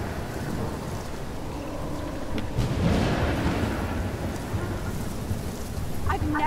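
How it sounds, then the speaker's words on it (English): A heavy thunderstorm in Life Is Strange, set in Oregon: dense steady rain roars close and loud, with a low rumbling swell of thunder mid-way and faint clicks near the end. "I've never seen a storm like this in Oregon."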